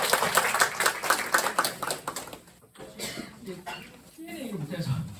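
A church congregation applauds at the end of a service, a busy spread of handclaps in the first half that thins and fades, with scattered murmuring and a voice coming in toward the end.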